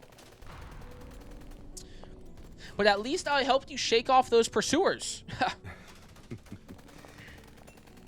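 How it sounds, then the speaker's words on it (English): Gunfire during a chase sequence in the video game Love and Deepspace, heard as a burst of loud, closely spaced shots lasting a few seconds, with a character's voice speaking over it. "Okay, we have gunshots now."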